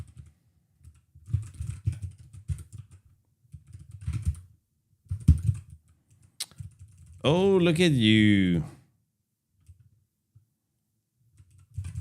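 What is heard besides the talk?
computer keyboard typing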